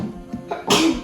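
A single sharp sneeze bursts out close and loud in a home kitchen, preceded by a short catch of breath, with no talk over it.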